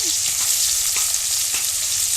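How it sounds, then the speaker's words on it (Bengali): Onion and garlic fry in hot oil with dried chillies, giving a loud, continuous close-up sizzle with faint stirring taps throughout. "রসুন আর পেঁয়াজটাকে ভালো করে একটু ভাজা ভাজা করে নেব"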